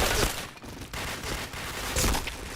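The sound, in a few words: gunfire in the video game Point Blank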